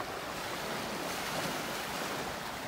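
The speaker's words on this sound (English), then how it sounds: "That's just a sandbar that the waves are breaking on out there." Ocean waves break on a shallow offshore sandbar seen from a beach in North Naples, Florida, making a steady, distant roar of surf mixed with wind, with no voices.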